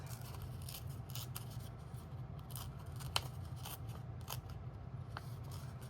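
Paper is torn slowly by hand in short pulls, a quiet series of dry ripping and crackling bursts at close range over a soft background hum, without any talking.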